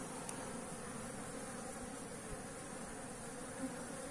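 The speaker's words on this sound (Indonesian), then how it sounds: "lebah." A large bee colony being moved into a hive box hums steadily and continuously with no pause, a dense, even buzz of thousands of bees close by, and no voices.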